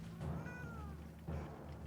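A cat gives a couple of short, close meows in a row against a low steady hum. No one speaks.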